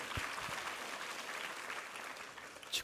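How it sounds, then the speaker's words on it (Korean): A church congregation claps in sustained applause after a sermon reading, a dense steady patter filling the room with no speech over it, fading slightly toward the end. "우리 하나님께 감사와 영광의 박수 올려드리겠습니다."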